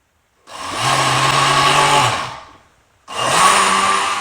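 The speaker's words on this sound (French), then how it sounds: "Transférer la pâte à crêpes dans un mixeur et là, je vais la mixer pendant 2 minutes jusqu'à ce qu'elle devienne mousseuse" A blender whirs baghrir crêpe batter until it turns foamy, running loudly for about a second and a half, winding down, then starting again for a second burst.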